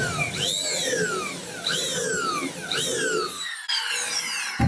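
An electric drill bores a hole into wood for a bolt head while building a bed box, whining up in three repeated bursts before the motor cuts out near the end.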